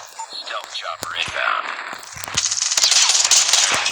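Rapid gunfire from the Call of Duty Mobile shooter game, a Type 63 rifle in use, crackling in dense bursts that build louder toward the end over steady game background noise, with a voice speaking in between.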